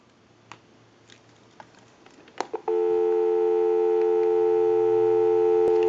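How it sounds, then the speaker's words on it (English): Steady telephone dial tone on a Western Electric Princess desk phone under repair, starting abruptly after a few faint clicks and handling taps, then holding loud and constant to the end. "Go ahead and give you some dial tone."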